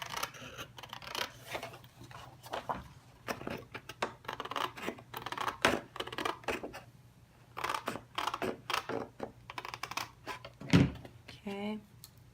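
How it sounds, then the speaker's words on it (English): Scissors cutting paper just above a score line while making a trifold mini album: repeated quiet snips and crisp rustles at close range, with someone talking between cuts. "you want to cut just above your score line"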